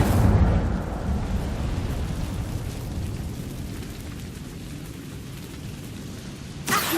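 Incendio fire spell cast in Hogwarts Legacy: a loud burst of roaring, crackling fire that dies down over several seconds into a steady rushing noise, ending with a short sharp hit.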